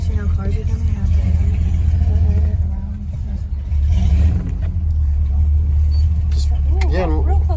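Large wide vehicle being driven, a loud close low engine rumble that swells and dips steadily, with occasional voices over it.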